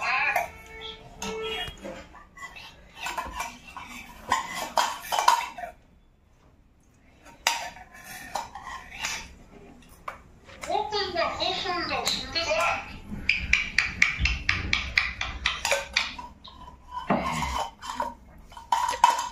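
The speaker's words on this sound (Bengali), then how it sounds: "ছোট বেবি একা একা চামচে করে বাটির থেকে চানাচুর তুলে খাচ্ছে।" A toddler scoops chanachur out of a bowl with a spoon, giving scattered light clinks and scrapes of the spoon against the dish, with speech heard before and after.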